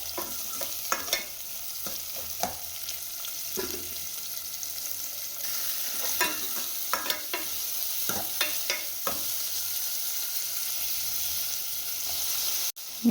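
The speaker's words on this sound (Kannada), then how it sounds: "ನೆಕ್ಸ್ಟು ಈರುಳ್ಳಿ ಹಾಕ್ಕೊಂಡು ಸ್ವಲ್ಪ ಅದು ಕಲರ್ ಚೇಂಜ್ ಆಗೋವರೆಗೂ ಫ್ರೈ ಮಾಡ್ಕೊಬೇಕು." Onions frying in a pan with cumin, mustard seeds, garlic, chillies and curry leaves, a continuous sizzle broken by repeated close scraping and stirring strokes, with no talking.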